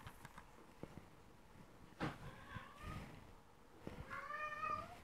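Cats meowing indoors, a few faint, drawn-out meows with quiet thumps and handling noises in between, the last call longer and clearer.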